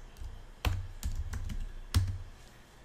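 Keystrokes on a computer keyboard, a few distinct clicky taps at irregular intervals, close and fairly clear against quiet background hiss.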